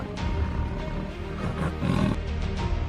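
In a jungle setting, a big tiger gives a sustained, heavy roar with throaty surges and growling swells, loud and near throughout, with no voices over it.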